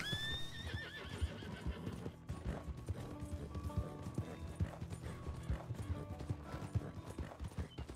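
A horse in the Red Dead Redemption game clip-clops along at a steady gait with a whinny near the start, hooves and neighs set against a busy in-game ambient background.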